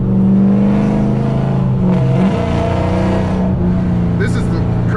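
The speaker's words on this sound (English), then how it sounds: "This is the craziest Scatpack I ever driven." A Dodge Scat Pack SRT engine drones loudly from inside the car while driving, a steady, deep, harmonic-rich roar that shifts pitch partway through as the revs change.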